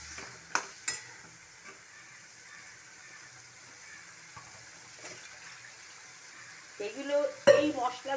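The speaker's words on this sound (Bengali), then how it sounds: "এই যে আলুটাকে আমি দিয়ে দিলাম, এটা দিয়ে কষাবো" Potatoes and spices fry softly in a pan for a fish curry, a faint steady sizzle with occasional stirring knocks and a louder clatter near the end.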